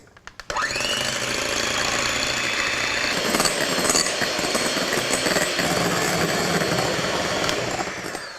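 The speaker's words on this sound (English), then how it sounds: "Now I'm going to whisk the egg whites." Egg whites whisked in a bowl for a meringue, a loud steady mechanical whir that starts abruptly and runs continuously before easing off at the end.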